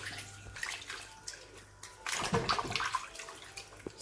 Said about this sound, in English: now I'm gonna be washing the ribs.